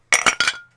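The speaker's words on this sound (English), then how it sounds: "Boom. Cool. Clink." Glasses clink in a toast, three quick bright chimes within a second, close and alone, with a thin ringing tail fading out.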